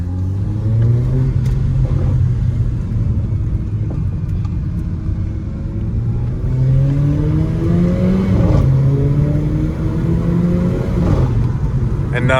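A Mercedes CLA 45 with a loud aftermarket exhaust pulls hard, its engine note climbing and dropping through repeated gear changes in a continuous, close-up cabin-heard roar.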